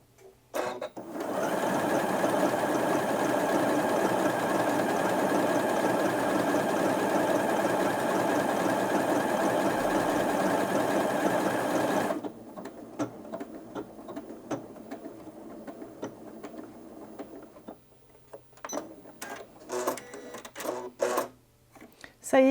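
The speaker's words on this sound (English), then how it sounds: "the machine will stitch out the same length pattern again automatically for me without me having to hit the target stitch button" A Janome Atelier 7 sewing machine runs steadily for about eleven seconds as it stitches out a pattern on its own, a loud, even mechanical whir that stops abruptly, followed by quieter handling clicks and faint rustling.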